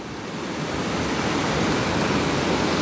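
The flooded Seuti river near Dharan rushes past as a loud, constant broadband roar that swells slightly at the start and then holds steady and close.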